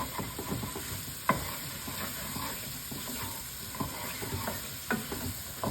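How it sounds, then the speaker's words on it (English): Mushrooms sautéing in a pan, a continuous bright sizzle broken by a spatula's scraping and stirring taps at irregular intervals, close and moderately loud with no talk. "We're going to saute these mushrooms for a couple minutes."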